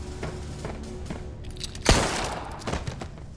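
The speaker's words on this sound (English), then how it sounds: "I just shot your guy." A single sharp gunshot bursts out during a science-fiction movie battle aboard a large spaceship, loud and abrupt, with faint thuds and shuffling before it and a short decaying tail after.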